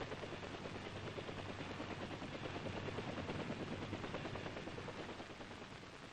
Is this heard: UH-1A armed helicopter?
yes